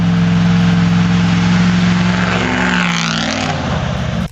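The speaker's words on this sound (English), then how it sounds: "1996 Dodge Ram 1500 360 cubic inch V8." A 1996 Dodge Ram 1500 pickup with a 360 cubic inch V8 engine roars close by with a deep, steady rumble, then sweeps past with a falling pitch and cuts off abruptly.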